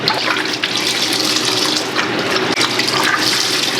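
Tap water runs steadily and loudly into a sink while laundry is rinsed, a continuous close rushing splash with no talking.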